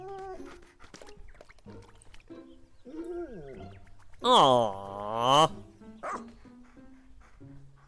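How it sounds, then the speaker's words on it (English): A dog-like creature in the video game Pikmin 4 lets out a loud, wavering whimper-like cry of about a second, followed by a second rising call, with speech and game sounds around it. "This creature reminds me of a dog."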